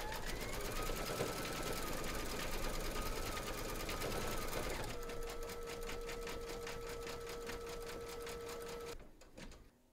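An embroidery machine satin stitches a design in the hoop for a teddy and unicorn bag, running as a steady, fast mechanical whir that shifts pitch partway through and stops near the end.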